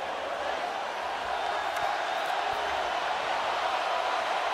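Tennessee football stadium crowd roaring during a game against Georgia, a dense, continuous wall of distant cheering and whooping that stays level throughout with no break.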